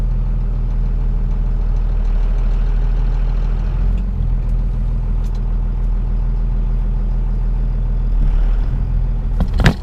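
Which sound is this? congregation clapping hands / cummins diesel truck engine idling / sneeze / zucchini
cummins diesel truck engine idling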